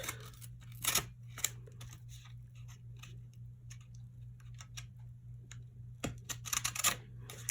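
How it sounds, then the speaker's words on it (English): An X-Acto knife cuts around the edge of paper laid on a clipboard during a craft project, making faint, scattered scratchy ticks and a few sharper clicks in a quiet room. "cut around it with that X-Acto knife"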